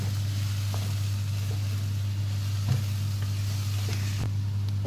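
Chow chow being stirred in a pan with coriander, cumin, chilli powder and grated coconut, a soft continuous sizzle over a low steady hum with occasional faint scrapes of the spoon.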